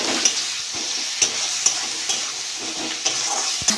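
Spices and chopped tomato fry in hot oil for a pointed gourd curry, a steady close sizzle broken by regular scraping strokes of a spoon stirring the pan, no voices.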